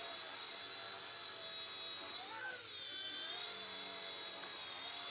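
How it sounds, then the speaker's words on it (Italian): A military drone hovering and rotating like a helicopter gives off a steady high-pitched whine of spinning rotors, close and continuous, with the pitch bending briefly as it turns. "Possiamo spostarlo a destra, a sinistra, avanti, dietro, come un normale elicottero o drone, e farlo anche ruotare"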